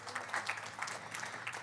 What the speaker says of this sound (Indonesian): Berikan tepuk tangan bagi dia sekali lagi